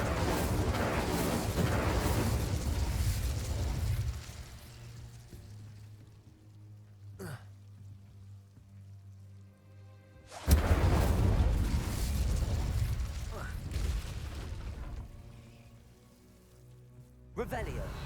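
A fire spell cast in the game Hogwarts Legacy erupts as a loud, roaring whoosh of flame, with a sharp burst near 10 seconds and a crackling, rain-like hiss sustained through much of the clip, under a talking voice.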